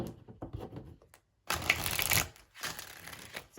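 Rapid riffling and slapping of a deck of tarot cards being shuffled, close and fairly loud, in two bursts separated by a short pause.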